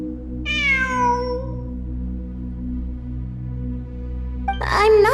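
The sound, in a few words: cat meowing in ruins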